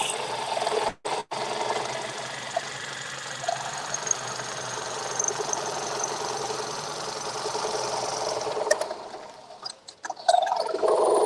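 Gouge cutting a wooden bowl on a lathe running at about 1200 RPM, a steady broadband rasping hiss held for most of the stretch, broken by two brief gaps early on and easing off near the end.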